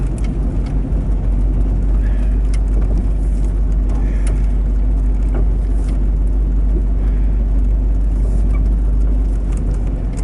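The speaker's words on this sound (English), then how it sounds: "We're in my van simply because the terrain down here is rough enough, it would pretty much beat up a car." Van rolling slowly over rough terrain near a lower dam, with a constant low rumble of the engine and tires plus scattered knocks and rattles from the bumpy ground.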